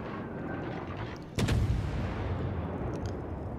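A booming naval gun salvo from warships in World of Warships, with a single heavy blast rising out of a constant roar of sea and engine rumble, followed by a lingering rumble.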